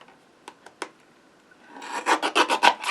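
Card edge being trimmed while making a window card: a few light taps, then a run of quick rasping strokes that grows louder and steadier near the end, close up with no talking.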